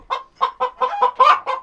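A hen sitting in the egg box of a chicken coop clucks close by in a quick run of about six agitated, rhythmic clucks, with no other sound around them.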